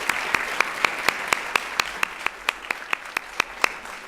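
Audience applause for guests at a fashion education workshop with the First Lady: sharp, evenly spaced claps in a steady rhythm, standing out clearly over a soft, hushed room.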